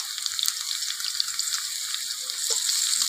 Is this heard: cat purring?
no